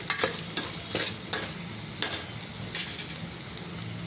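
Ingredients fry in a pan for cabbage dal while being stirred, a constant bright sizzle punctuated by regular spoon scrapes about every half second, close and steady, with no talking.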